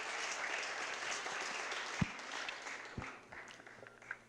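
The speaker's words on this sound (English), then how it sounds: "I think the applause speaks for itself." Audience applause following a lecture on the State Road 332 design charrette, a steady wash of many hands clapping at moderate distance, with a couple of sharper isolated claps standing out before it thins toward the end.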